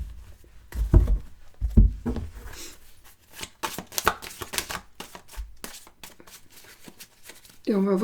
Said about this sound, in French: Alors, je vais mélanger mes deux jeux.